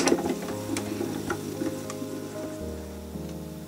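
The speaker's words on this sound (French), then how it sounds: "Il ne me reste plus qu'à tourner la manivelle de ma machine" The crank of an embossing machine is turned by hand, pressing an aluminium sheet through a relief template: a close, continuous ratcheting and gear clicking with small ticks, ending in a sustained low mechanical hum.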